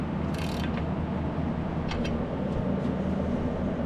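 Mechanical ratcheting and metallic clicks from tightening the torque converter spacer bolts on an LS engine swapped into a 1955 Chevy, a steady low workshop hum underneath with a few brief sharp bursts.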